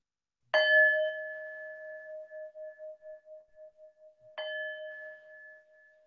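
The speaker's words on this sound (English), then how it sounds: "in just a moment, I'll ring a bell to signal the end of our practice" A meditation bell is struck twice, ringing at the close of a mindfulness practice; each soft, clear strike lingers with a long shimmering, pulsing decay, and the second falls about four seconds after the first, with no voices.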